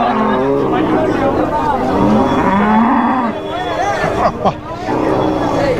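Cattle low repeatedly at a muddy village livestock market, the moos loud and near amid a babble of voices, with people talking close by throughout.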